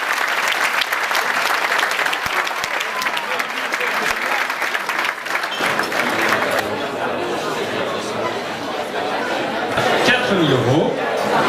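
Audience at an evening charity event with an auction in September 2015 breaks into sustained, loud applause for Yvonne, dense clapping that thins toward the end under crowd chatter and scattered voices.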